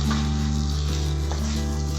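A dough mixture for a fasting (vrat) recipe sizzles and fries steadily in a pan on the stove. The hiss is loud and continuous, with faint stirring underneath.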